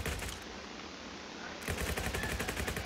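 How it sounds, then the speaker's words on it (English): Rapid bursts of gunfire in the Roblox game Jailbreak, with dense automatic shots and a short muffled gap before the firing resumes loud and close. "who's shooting?"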